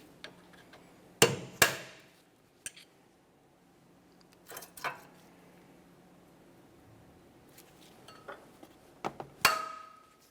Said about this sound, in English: you may have to drive them out with a hammer and chisel